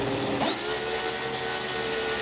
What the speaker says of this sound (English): And it sounds like a dentist drill.